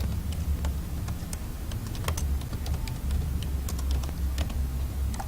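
Steady typing on a computer keyboard while writing Python code, with quick, light, irregular key clicks close by and no talk.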